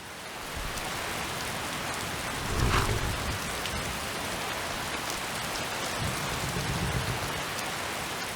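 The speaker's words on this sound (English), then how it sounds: "Oh, I love the rain." Steady rain pours in a Skyrim game scene, a dense even hiss of drops with a low rumble of thunder rolling in the middle and a softer rumble later, heard alone without talk.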